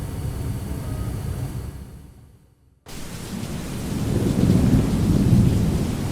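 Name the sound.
thunderstorm with thunder and rain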